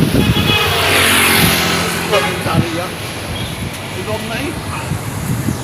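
Passing vehicles on a highway beside a roadside grill eatery in Mindoro, a steady wash of road noise with one car swelling past early on, loud and fairly close, while people talk over it.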